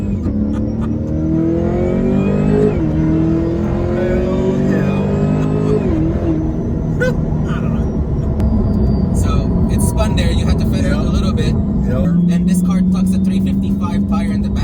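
An 850-horsepower supercharged C8 Corvette revs and accelerates hard in Mexico, pitch climbing and dropping through gear changes, with tire noise from spinning 355 rear tires and voices talking over it.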